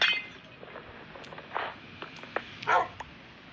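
Dogs in the Minecraft video game give a few short barks and yelps scattered over quiet game background, with small clinking effects between them.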